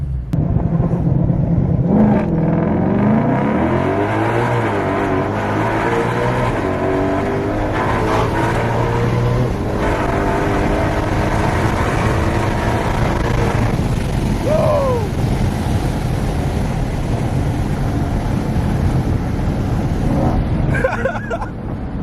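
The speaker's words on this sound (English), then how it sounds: "This is your first time actually doing like a dead stop pull with the drag pack, huh?" Shelby GT500 fitted with a drag pack launching from a dead stop, its loud engine rumble revving and climbing through gears in a long sustained pull, heard close up throughout.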